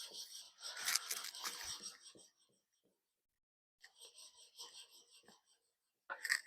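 The back of a chisel is flattened by hand on a sharpening surface, giving faint rhythmic rasping strokes in two bursts separated by a pause.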